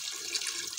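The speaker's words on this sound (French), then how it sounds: "on va rajouter l'eau jusqu'à qu'on va couvrir la viande" Water pours into a pot over meat for couscous, a short steady splash and rush with a brief bright spike, close by with no talk.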